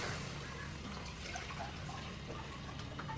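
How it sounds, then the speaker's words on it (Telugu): Water pours steadily into a cooking pot of rice being prepared for a Banjara dish, a continuous soft splashing rush that holds even throughout, with no talking. "ఈ గిన్నెలతో 3 గిన్నెలు వాటర్ పోస్తున్నాను."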